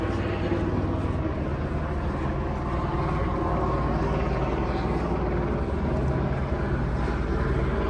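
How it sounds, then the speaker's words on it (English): A helicopter circles over downtown Los Angeles at night, a continuous broad rotor rumble that stays steady and moderately loud throughout, with no talk over it. "I feel like this helicopter has been circling around quite a bit."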